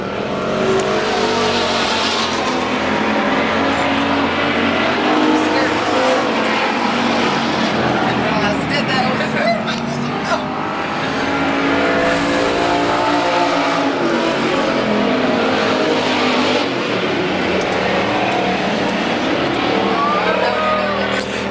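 Pure stock race cars roar around the dirt oval at Central Arizona Speedway, a steady dense wash of engine noise with cars sweeping past, loud and continuous while a race announcer talks over it.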